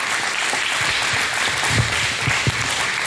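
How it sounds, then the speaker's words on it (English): An audience applauds at a talk by an ACLU speaker, with a dense, steady wash of clapping throughout and a few louder individual claps near the end. "final round of applause for Josh"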